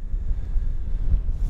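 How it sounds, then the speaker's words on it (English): Strong wind buffets a microphone on an open hilltop in Alberta's Red Rock Coulee Natural Area, producing a continuous loud low rumble with gusting swells and no speech. "Wow, is it windy?"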